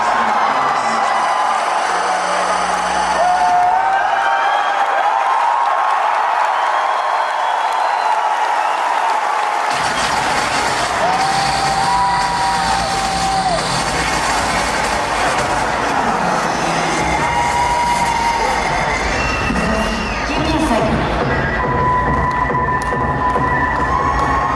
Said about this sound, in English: there's a channel, David Luong, posted a video from BlizzCon 2016 of a crowd reaction